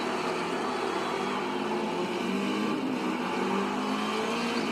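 Race cars in the video game Racedriver GRID during a demolition derby, engines roaring steadily and close, with dense crashing and grinding of cars running continuously throughout.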